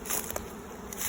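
A swarm of honeybees pours out of a hive outdoors, making a steady, dense insect buzz that stays close and continuous throughout, with no talking.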